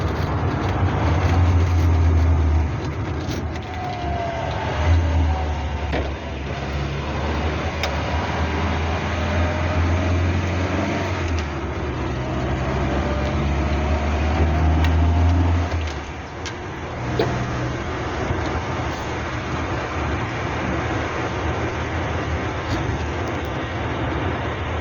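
A Hillman Superminx engine runs after a valve clearance adjustment, heard from inside the car on a drive as a steady low hum with road rumble that swells and eases as the throttle changes.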